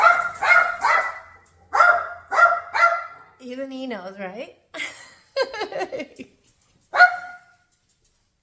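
A dog barks in short bursts, several sharp barks in quick clusters, interleaved with a person talking nearby.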